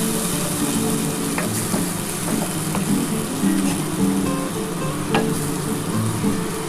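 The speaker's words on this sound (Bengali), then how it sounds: "মশলার জলটা আমি দিয়ে দেবো ভালো করে কষিয়ে নিই" Pomfret curry masala of ground mustard, poppy seed, yogurt and green chilli, thinned with water and stir-fried in a pan, crackling and bubbling continuously with scraping spatula strokes, close and fairly loud, with no talking.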